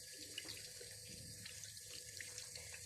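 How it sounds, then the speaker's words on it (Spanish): Water runs steadily from a tap into a sink as hands are wetted for handwashing, a continuous close splashing hiss with no talking. "abrimos el grifo,"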